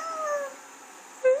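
A voice imitates a cat, giving a drawn-out falling meow, then a short rising mew after a pause.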